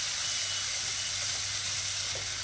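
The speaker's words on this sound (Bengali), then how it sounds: "মশলাটা ভালো করে কষিয়ে নিচ্ছি।" Spice paste of chili powder, turmeric, salt and tomato sautés in hot oil, giving a loud, steady, unbroken sizzle and hiss close by throughout, with no talking.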